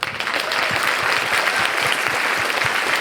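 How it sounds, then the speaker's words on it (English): An audience at a youth-focused B Lab U.S. & Canada event breaks into loud, sustained applause, a dense wash of many clapping hands running throughout without any talk. "Big round of applause for the beautiful work our young people are doing."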